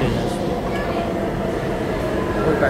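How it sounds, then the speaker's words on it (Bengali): A subway train rumbles into Jackson Heights station, a steady low rolling roar filling the platform while someone talks over it. "ওই পাশে আরেকটা ট্রেন আসছে, দেখছেন, ওটা ম্যানহাটনে যাচ্ছে আর কি"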